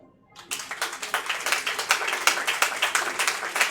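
A church congregation claps together in a steady, quick rhythm, the applause full and close and mixed with faint cheers of acclaim, starting abruptly after a brief silence.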